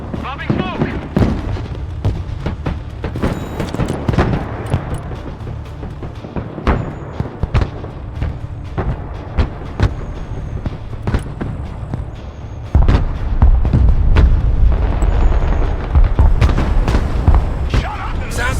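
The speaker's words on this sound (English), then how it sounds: "Call in the artillery and mortars all at once." Artillery and mortar barrages in the military video game Broken Arrow. Sharp booms and explosions come in rapid, irregular bursts, giving way to a denser rumbling bombardment near the end, with voices talking over the gunfire.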